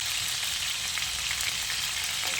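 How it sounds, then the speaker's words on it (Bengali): Cut potatoes with a little salt and turmeric fry in hot oil for aloo dum, a continuous close, loud sizzling crackle with no voices. "তেল খুব ভালোভাবে গরম হয়ে গেছে। এবার আমি কেটে রাখা আলুগুলো দিয়ে ভেজে নেব।"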